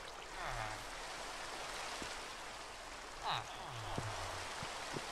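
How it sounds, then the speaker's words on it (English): Rainfall in Minecraft makes a constant soft, wide hiss that runs unbroken from start to finish, with a couple of brief faint tones poking through. "And now it's raining."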